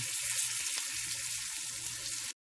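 Green beans sizzle in melted butter in a pan, a dense, steady frying hiss with faint crackle that cuts out briefly near the end.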